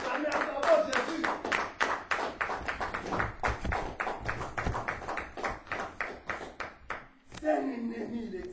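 Congregation at a French-speaking church service clapping in steady rhythm to acclaim Jesus, a long run of sharp, evenly spaced claps that breaks off near the end as a voice speaks.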